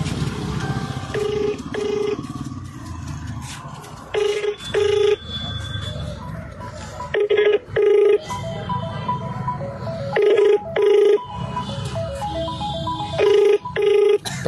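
A phone call to a hospital plays on speakerphone: a ringback tone repeats in short, regular bursts over muffled room noise and background murmur, with no clear voices.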